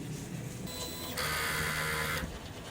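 An inkjet printer runs a print head cleaning cycle, giving a close mechanical whirr that steps up into a louder, brighter buzzing hum for about a second before settling back to a lower motor drone.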